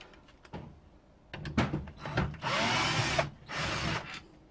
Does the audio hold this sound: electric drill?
yes